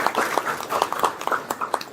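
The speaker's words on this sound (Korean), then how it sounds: "힘찬 박수 부탁드립니다" An audience at a Korean capital-markets policy event claps steadily and fairly close for a couple of seconds.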